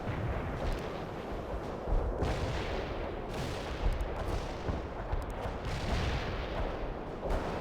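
Missiles and heavy weapons fire in a World in Conflict battle, with dense, continuous rumbling blasts and booms rolling one into another at close range. Nobody speaks.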